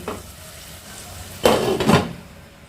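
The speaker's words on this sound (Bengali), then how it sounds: "এবার ভালো করে এটাকে আমি কষিয়ে নেব যতক্ষণ না টমেটোর কাঁচা গন্ধটা চলে যাচ্ছে" Mixed vegetables stirred and fried with tomato paste in a pan, a quiet background sizzle broken by two loud scraping stirs near the middle, with no talking.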